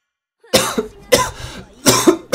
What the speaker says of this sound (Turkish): Böyle bir öksürüyordum ki öküz gibi böyle.